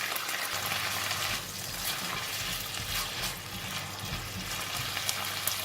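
Beef stir-frying in a pan with light soy sauce, oyster sauce and sesame oil, a steady close sizzle and hiss with faint scraping running the whole time, no voices.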